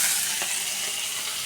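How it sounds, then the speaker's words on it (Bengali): Fish sizzles steadily in a hot pan with garlic and black cumin, a close, continuous frying hiss with a faint stir near the start and no talking. "এখানেই ভাজা হয়ে যাবে মাছটা"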